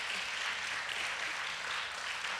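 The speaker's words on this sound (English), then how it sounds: "let's give her a round of applause" Children at a Christian school's morning assembly applaud a teacher, a full, continuous burst of clapping that stays loud and even for a couple of seconds with no voices on top.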